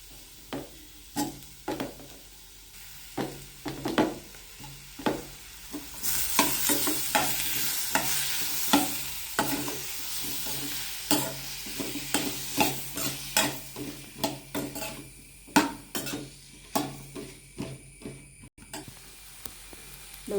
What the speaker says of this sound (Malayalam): ഉള്ളി നല്ലോണം വഴന്ന് വന്നിട്ടുണ്ട്.